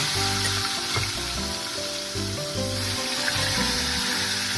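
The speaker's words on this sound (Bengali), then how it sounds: "পটলগুলোকে ভেজে নেব। তেলটা মনে হচ্ছে গরম হয়ে গেছে।" Pieces of pointed gourd fry in hot oil in a wok, giving a steady, close, continuous sizzle with no voices.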